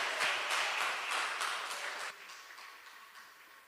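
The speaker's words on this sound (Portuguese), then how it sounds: "Uma salva de palmas para Jesus" A church congregation applauds in a steady, full wash of clapping that gradually thins and softens toward the close.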